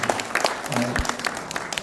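Audience at a new-year gathering in a university convention hall applauding, a short burst of many hands clapping, with a voice briefly speaking over it.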